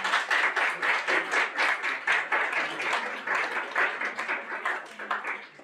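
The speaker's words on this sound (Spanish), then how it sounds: "El aplauso de ustedes, por favor." An indoor audience at a talk gives a round of steady applause, dense, even clapping sustained for several seconds at moderate loudness.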